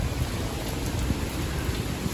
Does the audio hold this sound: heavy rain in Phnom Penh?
yes